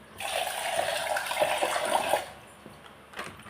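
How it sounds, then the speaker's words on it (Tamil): Water pours into a bowl of curd in one continuous splashing stream lasting about two seconds, then stops, leaving a quiet moment and a small final trickle. "இந்த தயிரில் கொஞ்சம் தண்ணி ஊற்றி"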